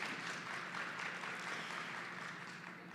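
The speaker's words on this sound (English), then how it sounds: "let's give them a big round of applause for being their first time" A conference audience at an international Indigenous women's conference claps in a warm, continuous burst of applause that fades slightly toward the end.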